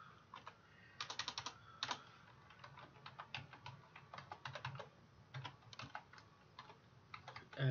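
Fingers type steadily on a computer keyboard, quick clusters of close, crisp key clicks with brief pauses between bursts, no voice over them.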